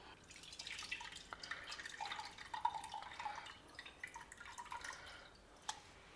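Soaked tamarind is squeezed by hand in water to extract its juice, producing soft wet squelches, drips and small splashes in an irregular rhythm, close and fairly quiet, with no talking.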